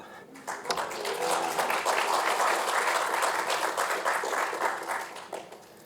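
Audience applauding and cheering at a marketing conference, a dense burst of clapping that swells quickly, holds steady for several seconds and then tapers.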